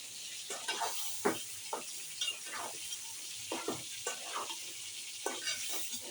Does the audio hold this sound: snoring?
no